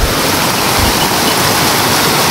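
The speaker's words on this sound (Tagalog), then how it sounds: "kasi yung agos ng tubig sobrang napakalakas" Strong rushing water of a river or waterfall roars steadily and loudly at close range, a dense continuous wash of noise with no pauses and no voices.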